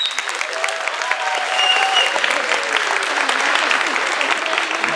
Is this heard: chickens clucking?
no